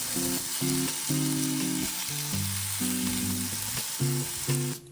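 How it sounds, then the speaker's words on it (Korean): Thinly sliced onion sautés in a frying pan with salt and pepper, giving a steady, close sizzle with light stirring, accompanied by background music. "프라이팬에 채 썬 양파를 넣고 볶아줄게요"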